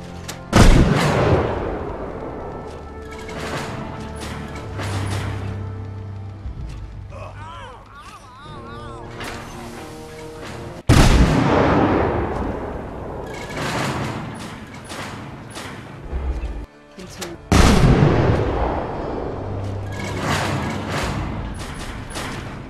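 Junk mortars firing in Fallout 4, heavy booming launches landing in several loud bursts spaced seconds apart, each followed by a long rumbling decay, with mechanical clatter and brief game voices in between.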